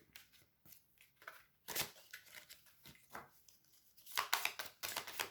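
Tarot cards handled and gathered up after several fell, with soft close shuffling, sliding and tapping sounds in irregular bursts, fairly quiet.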